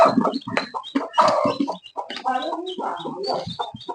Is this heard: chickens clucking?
yes